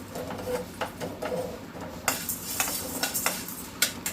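Coriander seeds roasting in a pan, stirred with a utensil that scrapes and taps the metal in irregular clicks over a soft background.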